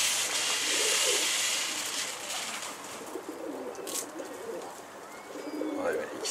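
Pigeons coo on a rooftop in several soft, rolling bursts spread across the stretch, set against a faint airy hiss.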